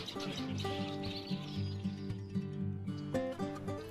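Red-winged blackbirds call in a nesting territory, their chirps and trills layered over a steady musical background; no speech.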